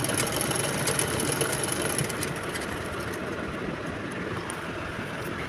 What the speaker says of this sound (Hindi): जो मशीन की चाल है तो वो आपको बड़ी रखनी है और तब ये सिलाई करनी है।